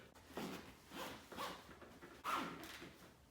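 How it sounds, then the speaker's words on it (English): Zipping up the canopy of a Nuna Pipa car seat, with a well-used zipper: several short, soft rasping pulls in quick succession, quiet and close, with no speech. "This just makes it really easy to zip back up."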